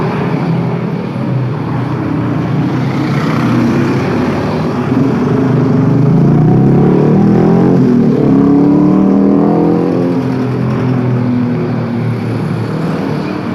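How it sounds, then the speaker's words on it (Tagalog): Steady road traffic rumbles throughout, with a broad engine roar that swells to a louder pass near the middle, as though a vehicle goes by close, then eases off slightly. "Eto, traffic na naman sa daan."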